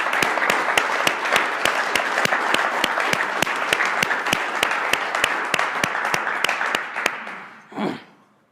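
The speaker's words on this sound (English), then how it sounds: "All right, round of applause for him." A small audience gives a round of applause at a men's self-improvement seminar: loud, evenly spaced sharp claps, close and dominant, that stop abruptly near the end, followed by a brief murmur.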